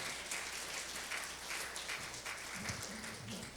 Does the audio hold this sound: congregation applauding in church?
yes